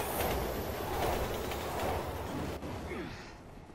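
A train rumbles past with a steady rolling roar in Resident Evil 6, close and fairly loud, fading toward the end with a faint squeal.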